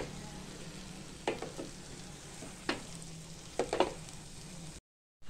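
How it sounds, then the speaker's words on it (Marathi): Masala spices fry in oil in a pan as a base for chicken keema, a soft steady sizzle broken by a few scraping stirs, quiet and close, with no talking. "सगळा मसाला छानपैकी आपण असा छानपैकी भाजून घेणार आहे एकसारखा"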